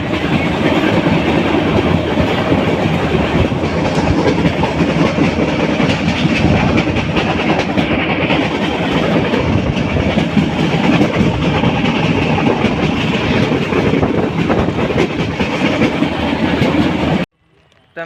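Train running along rails on the approach to Junagadh near Girnar in rain, a steady loud rumble with rhythmic wheel clatter close by, continuous for about seventeen seconds before cutting off abruptly.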